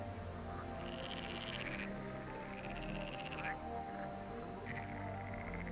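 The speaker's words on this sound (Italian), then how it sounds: "vivacemente animate all'esterno da voli di libellule e dal gracidio delle rane" Frogs croak steadily from a reed-lined spring-fed wetland, a faint, continuous chorus of repeated rasping calls with no voices over it.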